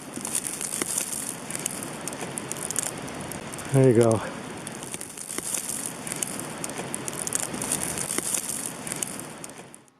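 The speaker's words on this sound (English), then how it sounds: "Here's the wind swirling outside during the storm." Wind swirling outside during a January 2016 blizzard in Washington, DC, a steady broad hiss and rush that swells and eases, with a brief spoken phrase near the middle.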